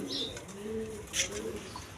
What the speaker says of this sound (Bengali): হাই ফিলিং গিরিবাস কবুতর